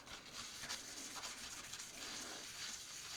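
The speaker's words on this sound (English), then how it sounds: "But just a real light, it's a very light sanding." Light sanding scuffs across a shiny surface on a junk journal piece, a steady soft abrasive rubbing with repeated strokes, close and continuous, no voices.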